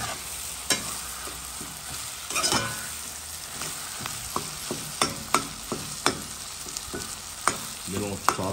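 Liver pâté rougail frying with spices, stirred in a pan: a continuous sizzle with a string of sharp scraping and tapping stirs growing busier toward the end, with no talk.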